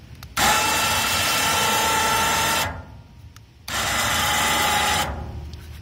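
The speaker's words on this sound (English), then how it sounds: "This will allow me to use this winch from a safe distance." An electric winch worked by remote control whirs in two long, loud, steady runs separated by a short pause, each starting and stopping abruptly, close by with no talk.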